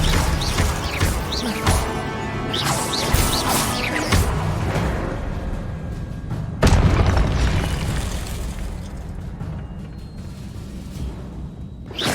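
Confringo fire-spell blasts in Hogwarts Legacy combat land as repeated booms and bursts amid whooshing spell effects, with one especially loud crash about two-thirds through a dense, continuous battle soundscape.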